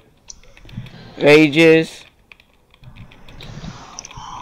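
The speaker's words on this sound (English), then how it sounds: "Just typing in something." A computer keyboard is typed on during a Fortnite gaming session, giving light, quick clicks that are faint near the start and again near the end, with a loud voice speaking in between.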